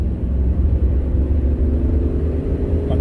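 A used car accelerates during a test drive, its engine and road rumble droning steadily and close from inside the cabin, with no voices over it.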